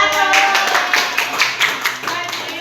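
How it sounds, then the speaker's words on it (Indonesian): A classroom of students clapping hands during a social studies micro-teaching lesson, a burst of brisk overlapping claps in quick rhythm for under three seconds, close and loud. "Tepuk tangan dulu."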